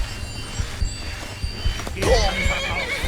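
A horse whinnies sharply partway through Skyrim Special Edition gameplay during a fight with a marauder, over a busy game soundscape with low rumbling and scattered clatter.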